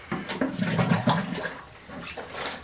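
Water pours and splashes steadily into a bucket at close range for a few seconds, part of a homemade hydroponic system setup, with a brief lull before the flow resumes.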